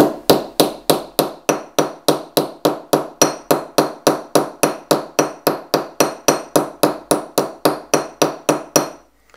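Steady, rapid hammer strikes on sheet metal, pressing dimples into the housing of a DIY parallel 21700 box mod; about thirty sharp, ringing blows land in an even rhythm, loud and close, with no voices.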